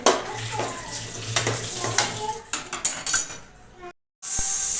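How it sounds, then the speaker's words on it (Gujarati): Water splashes and clatters into a metal pot of ragda amid clinking utensils, then a brief pause before a steady rush of running water. "હવે આપણે પાણી નાખીશું. જરૂર પ્રમાણે આપણે પાણી નાખીશું."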